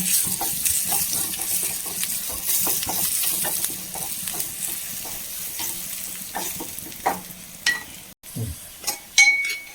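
Chili peppers frying in a pan: a steady sizzle with frequent stirring scrapes and a few metallic clinks of utensil on pan toward the end, near and without talk.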